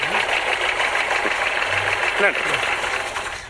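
A vehicle pulls up with a steady, rough engine rumble that stays close and loud throughout, mixed with voices and a busy background.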